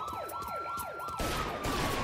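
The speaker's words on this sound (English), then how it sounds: "that's a police car" Police car siren in the video game Mafia III, a fast repeating wail sweeping up and down several times nearby, then cut off by a harsher burst of noise.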